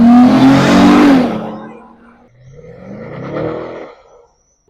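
A BMW 730d E38 diesel engine revs hard with a loud rising roar as the turbo spools, then eases off into a quieter second surge that fades away.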